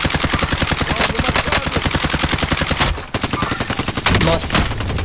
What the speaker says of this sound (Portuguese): Tava atirando no cara na rua.